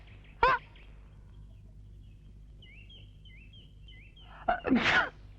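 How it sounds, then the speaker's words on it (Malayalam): A person in a Malayalam film scene gives a sharp sneeze, then after a pause lets out a second, louder, drawn-out sneeze, with faint chirping between them and no talk. "എന്തൊരു തുമ്മക്ക"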